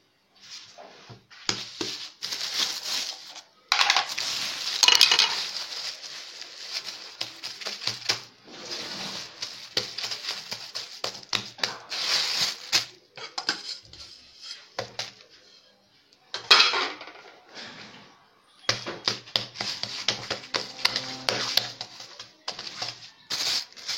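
Semolina is heated and stirred in a pan, with a utensil clattering and scraping against the pan in irregular bursts separated by short quiet gaps.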